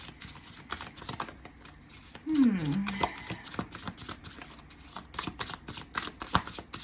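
Animal oracle cards being shuffled by hand, a brief close riffle and rustle of card stock near the middle, with a person talking quietly throughout.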